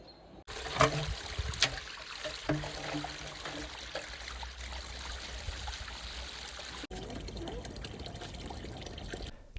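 A seasonal stream flows and trickles along an eroding bank, a steady close watery babble with splashy bursts early on and a brief handling thump, with no clear speech.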